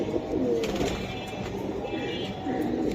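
Silver giribaz racing pigeons coo softly close by, low throaty murmurs repeating over a few seconds, with someone talking under and between the calls.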